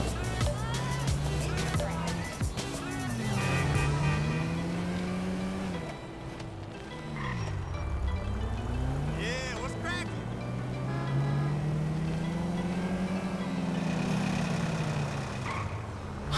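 A small car driving through the city of Los Santos in the video game GTA 5. The engine whines steadily up and down with gear changes, under continuous tyre and traffic noise, and someone talks over it.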